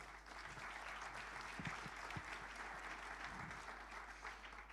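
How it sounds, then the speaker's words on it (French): An audience at a professional conference day in France applauds steadily to welcome a speaker to a round-table panel, dense continuous clapping from a large crowd across the whole span. "Sous vos applaudissements, merci."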